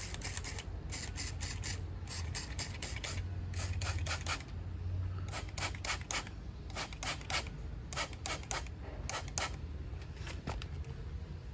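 Super fast degreaser sprayed from a trigger bottle onto oily, carbon-fouled parts, heard as a close, steady run of short hissing spray bursts in quick clusters with brief pauses between them. No voices.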